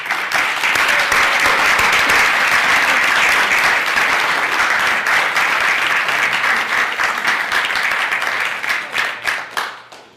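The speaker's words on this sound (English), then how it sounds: "let's give this gentleman a warm round of applause" An audience at a lecture applauds to welcome a guest speaker, a former FBI bureau chief. The thick, steady clapping lasts about nine seconds, then thins into scattered final claps and fades out.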